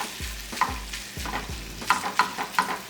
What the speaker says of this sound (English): So I'm just going to stir this around and let it cook.